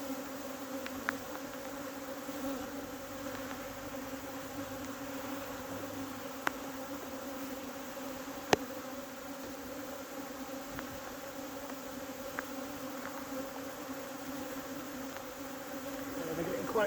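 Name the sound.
swarm of honey bees buzzing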